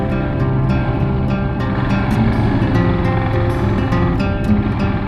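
Motorbike ridden on a road in Sohra, Cherrapunji, with a loud, steady engine drone and wind rush close by the whole time and no pauses.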